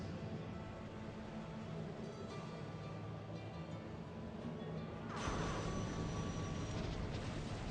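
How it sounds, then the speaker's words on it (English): Fighter aircraft in Civilization 5 strikes a helicopter gunship, a steady broadband jet roar that swells louder and brighter in the final seconds, with no talking. "We're going to attack this using a fighter that we have stationed in one of our cities."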